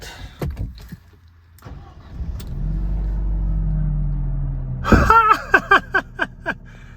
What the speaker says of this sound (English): So the car's idling fine.